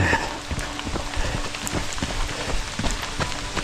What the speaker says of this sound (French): On a un petit peu de grêle.